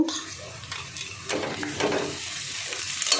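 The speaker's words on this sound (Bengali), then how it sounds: "এই কাঁচা লঙ্কা চিড়ে রাখা কাঁচা লঙ্কাটা দিয়ে দেব।" Slit green chillies dropped into a pan of frying spice mix for an egg bhujia curry crackle and sizzle close by, with clinks and stirring scrapes marking the uneven bursts.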